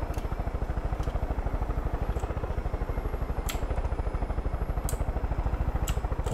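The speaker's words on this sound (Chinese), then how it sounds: "怎么会有直升机在这？" A helicopter at a military base in the video game Far Cry 5 gives a rapid, regular rotor thumping that holds a constant rhythm at moderate loudness, with occasional sharp clicks on top.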